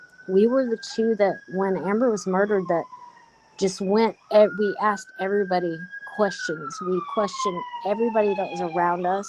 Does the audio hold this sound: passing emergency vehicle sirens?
yes